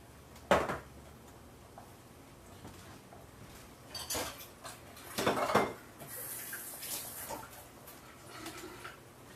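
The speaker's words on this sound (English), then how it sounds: "Throw them in there like that. And then give that a toss." Sliced food tossed in a pan while cooking herb and garlic pork chops, heard as a few scattered clanks and rattles of metal, with a louder burst in the middle, otherwise quiet.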